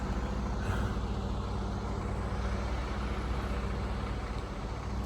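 A truck delivering sheetrock to a cabin build site rumbles steadily at a distance during unloading, its low engine drone continuous and fairly faint, with no voices.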